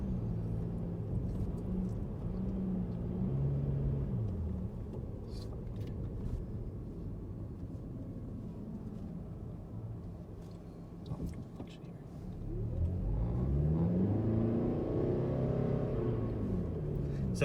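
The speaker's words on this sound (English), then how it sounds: "which does have that sort of CVT whine" Cabin of a 2019 Lexus ES 300h hybrid with its CVT: a steady drone with a thin tonal whine that rises and falls as speed changes, under continuous nearby talking.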